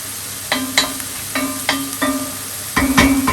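Tikka masala with onions sizzles in a pan, a steady frying hiss punctuated by repeated sharp clinks and scrapes of a utensil stirring, close and alone.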